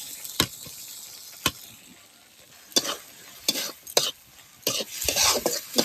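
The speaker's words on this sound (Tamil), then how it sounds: "இப்போ தக்காளி நல்லா வதங்கட்டும்" Tomatoes and coriander sauté in a pan for a thick curry, a soft sizzle broken by sharp spatula knocks and scrapes against the pan at irregular intervals, close by with no talk.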